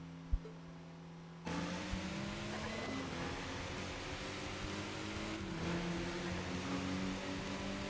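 Race car engines from a racing video game against a Honda rival, a steady revving drone with gear-shift pitch changes, starting abruptly after a quiet moment and running continuously.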